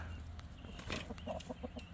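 Backyard Wyandotte hens clucking in a short, soft run of repeated calls, moderately close over a steady low outdoor hum.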